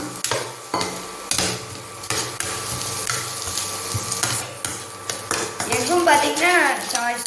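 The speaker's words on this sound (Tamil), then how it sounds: "உள்ளே போட்டு நல்லா கிண்டிக்கலாம்" Pasta with fried egg being stirred in a hot pan, with repeated scraping and clacking strokes of a spoon against the pan over a low sizzle, and a voice speaking briefly near the end.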